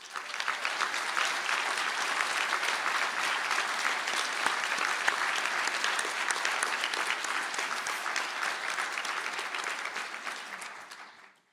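A large audience at a university conferring ceremony in Galway claps for standing graduates, dense sustained applause that holds steady for about ten seconds before tapering off abruptly.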